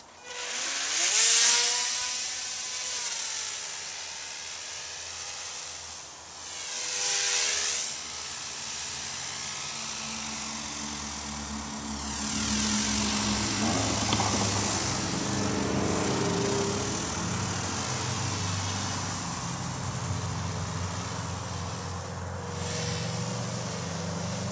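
A model airplane's small glow engine buzzes during flight of an AMA Cub, a steady high drone that rises and falls in pitch as the plane passes near and far, with no talking.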